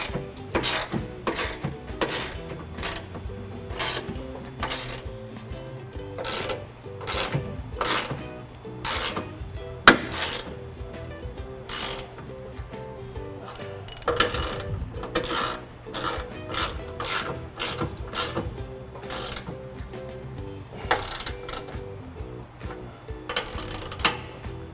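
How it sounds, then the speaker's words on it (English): Ratchet tightening bumper nuts while fitting a trailer hitch to a 2015 Ford F-150, with repeated rapid clicking bursts in irregular strokes, close and fairly loud, and no voices. "we're gonna go ahead and just tighten up our bumper nuts here."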